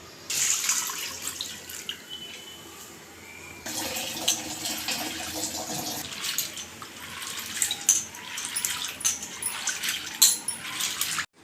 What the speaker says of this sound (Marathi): इथे आपली 3 ते 4 पाण्याने डाळ धुवून झालेली आहे